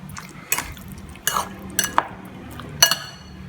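A spoon stirs food around in a pan to coat it, four separate bursts of metallic scraping and clinking against the pan, with quiet pauses between them.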